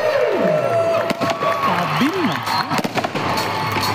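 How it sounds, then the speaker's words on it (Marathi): Loud clapping and cheering from a crowd at a school annual gathering, with whoops and shouts rising over a continuous burst of applause throughout. "जोरदार टाळ्या."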